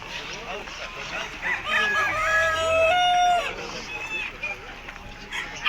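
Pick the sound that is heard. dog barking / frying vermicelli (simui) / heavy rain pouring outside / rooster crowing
rooster crowing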